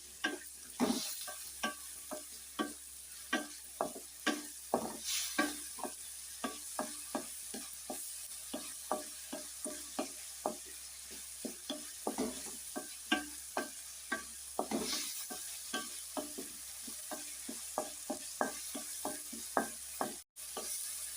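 Tomatoes cook down in a pan for tomato bath, with a soft steady sizzle under repeated rhythmic scraping strokes of a spoon stirring throughout.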